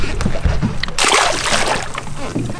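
A hogfish caught offshore is dropped back into shallow water, making one sudden, loud splash and a brief slosh, with faint voices nearby.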